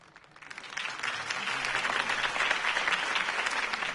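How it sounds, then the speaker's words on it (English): Crowd applause after a campaign speech by Harvey Dent in Batman: The Telltale Series swells up quickly and then holds as a thick, sustained roar of clapping. "could have heard that applause"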